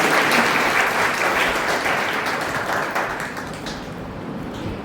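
Loud, dense applause sweeps through a women's day gathering at a Burhanpur service center, the crowd clapping hard and evenly before easing off slightly toward the end.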